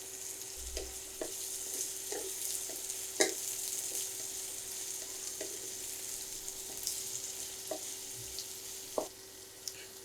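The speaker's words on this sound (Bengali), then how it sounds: "আর দিয়ে দিচ্ছি কাঁচামরিচ" Onion, garlic and green chilies fry in a pan for a bitter gourd dish, making a soft, steady sizzle with occasional light clicks of stirring.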